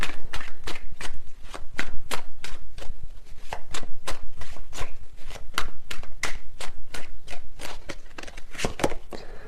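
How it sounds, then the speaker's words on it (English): Tarot deck being shuffled by hand, a fast continuous series of crisp card riffles and slaps in a steady rhythm, close and prominent. "These cards are flying out."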